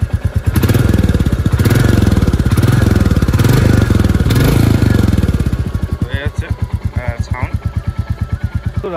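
Up close, a Royal Enfield Classic 350 motorcycle's engine is revved with the throttle in several surges, then falls back to a loping, steady idle thump, with a few short voice sounds near the end.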